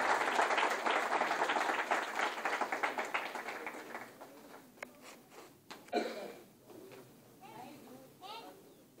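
An audience welcoming a poet with loud, dense applause that thins out after a few seconds into scattered claps and taps, with voices talking near the end.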